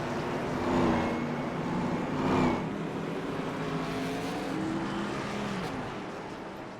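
A field of race cars rolling out at Homestead for a season finale, engines droning steadily at moderate distance with tones rising and falling as they pull away together.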